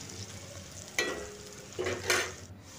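Potatoes frying in a small amount of oil in a wok for a Bengali-style aloo fry, with a soft steady sizzle broken by a few louder scraping stirs near the end, close and alone.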